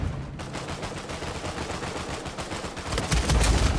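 Sustained gunfire from the Uncharted 4 multiplayer video game, a dense continuous rattle of shots that grows louder and heavier toward the end.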